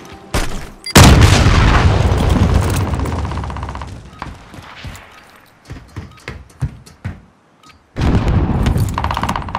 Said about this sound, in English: missile dropping into the area.